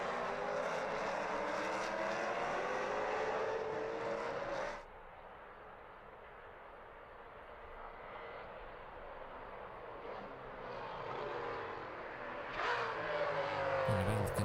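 Maserati Trofeo race cars roar past on the Red Bull Ring circuit in 2015, a loud sustained engine drone that drops suddenly to a distant hum, then swells again as more cars approach.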